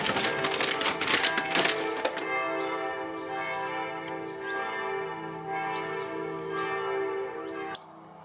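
On a Sunday morning in Germany, church bells peal loudly with a busy clash of overlapping strokes, then settle into steady, evenly spaced ringing that stops abruptly near the end.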